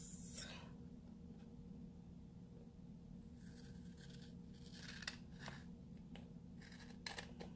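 Scissors snip through excess paper beside a planner sticker, soft and close, with a few quick crisp cuts clustered at the start and again near the middle and end over faint room hum.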